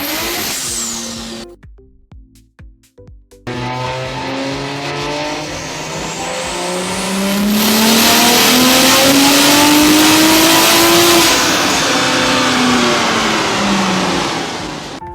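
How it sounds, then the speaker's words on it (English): A tuned 2017 BMW 340i engine roars loudly and steadily on a dyno, revving up and climbing in pitch, then holding a sustained high wail before easing off, with a brief dropout early on. "they made small adjustments, and the car just kept roaring"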